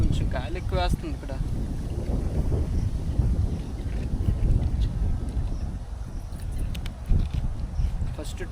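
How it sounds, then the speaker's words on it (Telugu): Strong wind sweeps across a campsite at night, a steady close rumble buffeting the microphone throughout, with a voice speaking over it. "కొంచెం గాలి ఎక్కువ వేస్తుంది ఇక్కడ"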